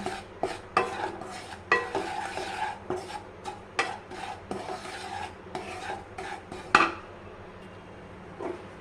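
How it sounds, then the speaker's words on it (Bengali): Semolina is stirred and dry-roasted in a pan for barfi, a busy stream of rhythmic scraping strokes of a spoon against metal with small clinks, fairly close, fading to quiet at the end. "सुजिटा अल्प आमी भेजे निई। हल्का भेजे नेब, बेशी भाजबो ना।"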